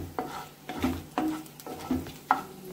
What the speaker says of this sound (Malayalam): ഇതിലേക്ക് എടുത്തു വെച്ചിരിക്കുന്ന വറ്റൽമുളക് കൂടെ ചേർത്ത് ഒന്ന് ഫ്രൈ ചെയ്യാം